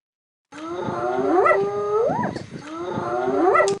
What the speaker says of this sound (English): Recognize that? A hyena.